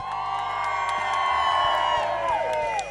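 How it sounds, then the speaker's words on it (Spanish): Crowd cheering and whooping for Pope Francis at his farewell ceremony at Tocumen International Airport, a sustained mass of voices with a few rising shouts standing out. "¡Aplauso para el Papa Francisco de este lado!"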